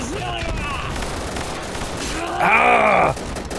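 Gunfire rings out in the World War II shooter Easy Red 2, with rapid bursts and loud, overlapping shots under shouting and tonal effects.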